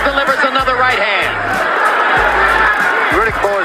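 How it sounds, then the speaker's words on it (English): Boxing arena crowd at Riddick Bowe vs. Evander Holyfield chanting "Holy" for Holyfield, a loud, dense roar of many voices with rhythmic swells throughout. "the crowd chants, "Holy, holy, holy,""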